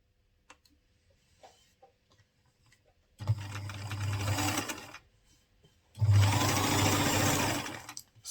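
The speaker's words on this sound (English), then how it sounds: "you now stitch on it very close to the seam line" A sewing machine stitches close to the seam line of a corset gown, two loud steady whirring runs of about two seconds each, separated by quiet handling clicks.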